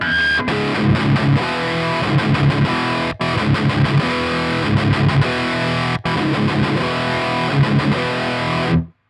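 Heavy distorted electric guitar riffs play loudly through tube amps set to channel 3 via a Harley Benton GPA100 power amp, with brief silent gaps between three repeated passages before stopping sharply.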